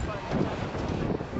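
Wind gusting across a snowy mountainside in the Swiss Alps near Interlaken, a steady broadband rush buffeting the microphone throughout, with faint voices mixed in.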